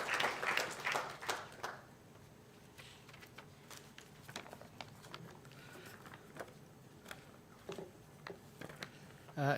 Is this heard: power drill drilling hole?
no